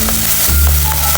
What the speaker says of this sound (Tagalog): Then dudurugin natin yung sardines.